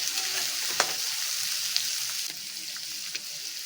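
Chopped radish and radish greens frying in a pan while being mixed, with a steady hiss of sizzling and a few scattered clicks of the spoon, close by.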